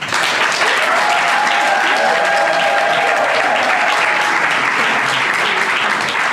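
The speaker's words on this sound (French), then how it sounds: "Sous vos acclamations." Wedding guests at a civil marriage ceremony break into loud, sustained applause, a dense wash of clapping from a sizable group that fills the room without pause, with a few voices mixed in.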